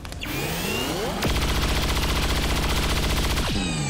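Soldiers' gunfire in XCOM 2 erupts as one loud, sustained burst of rapid automatic fire lasting about two seconds, framed by whirring mechanical tones before and after.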